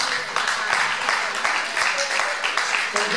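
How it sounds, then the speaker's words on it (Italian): Applause at an art exhibition opening, a dense, moderately loud patter of many hands clapping with faint voices mixed in, steady through the whole stretch. "L'applauso non è per me, ma è per Nicola D'Alessio."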